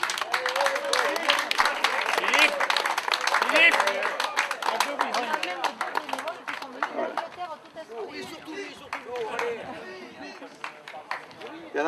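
Applause from a crowd, a dense patter of clapping that slowly thins out, with voices chattering over it.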